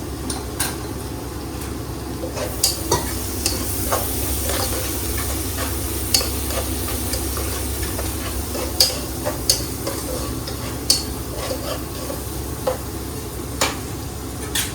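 Food sautés in a pan with asafoetida, giving a loud, steady sizzle with a spatula scraping and tapping the pan at fairly regular intervals.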